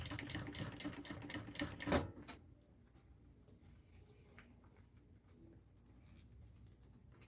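A sewing machine stitching a bag lining, a fast rapid whirring stitch run that stops after about two seconds, followed by quiet handling noises, close and fairly soft.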